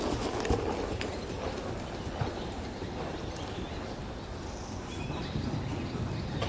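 A horse canters around a dressage arena during a test, its hooves giving soft rhythmic thuds against a gritty, breezy outdoor background, steady and moderately close throughout.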